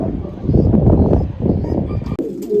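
Male pigeons in a loft cooing in low, throaty bursts close by, with a few sharper bird sounds and a brief rustle near the end.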